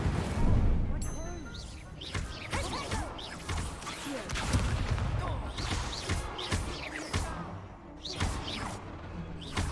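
Incendio fire spell in Hogwarts Legacy: dense whooshing blasts, bangs and crashes in a busy combat mix, loud and near, with a voice speaking over part of it.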